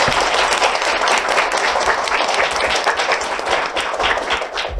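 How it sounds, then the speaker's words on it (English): Loud, dense applause from the audience at a global health forum, honoring a visiting dignitary after his talk, continuous for the whole stretch and slowly easing toward the end. "please give a warm round of applause to His Excellency for sharing his ideas."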